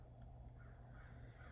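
A crow caws outside, a faint, distant call over a steady low background hum, with no one talking.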